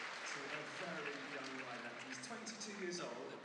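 Arena crowd at a show-jumping final in Gothenburg applauding a rider with a standing ovation, a steady dense wash of clapping mixed with crowd murmur throughout.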